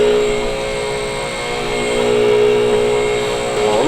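Hydraulic garage equipment runs after its button is pressed, a loud steady mechanical drone with a constant tonal whine and hum that swells slightly and holds without pause.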